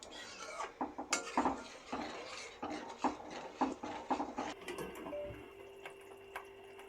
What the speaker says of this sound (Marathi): हे बघा असं सगळं मसाला ते टाकून एकत्र असं हलवून घ्यायचं